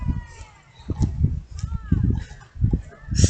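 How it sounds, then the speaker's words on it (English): Crows cawing outdoors in a few harsh, rough calls spaced across a few seconds, moderately near, with honking bird calls mixed in. "Hear the crows."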